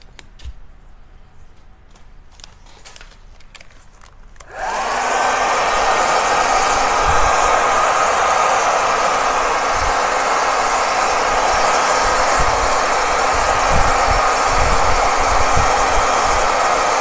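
A hair dryer switches on abruptly after a few seconds of quiet background and then runs as a loud, steady whoosh while drying a decorated craft box.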